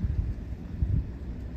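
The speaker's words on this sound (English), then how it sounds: "this gives you a good example right here of the rain" Rain falls steadily during a storm in Rockport, a low, continuous rushing wash with deeper rumbling swells, loud and close, with no voices.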